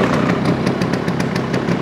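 A Stella scooter engine sputters to life after an overnight battery charge, running with a rapid, regular pulsing putter that stays close and steady throughout.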